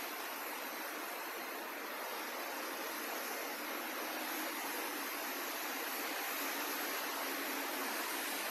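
Heavy rain pours down steadily during a thunderstorm in Benidorm, a dense, even hiss with no breaks and no voices, constant in level throughout.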